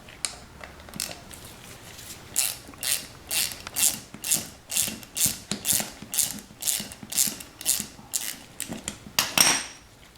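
A thread chaser ratcheted through a bolt hole on a Fox Body engine, giving a steady run of sharp metallic clicks in quick bursts, close and loud, with no talk.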